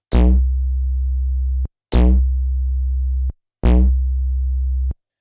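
Three sustained OP-1 Field pulse synth notes, each opening with a harsh, buzzy burst that quickly smooths into a steady sine-like tone, separated by short silences and ending with small clicks.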